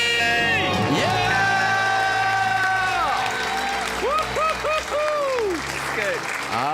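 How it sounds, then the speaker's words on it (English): An audience at a live talk screams, cheers and whoops in a loud burst, with shouting voices over applause that settles somewhat toward the end. "Let's hear a debt-free scream."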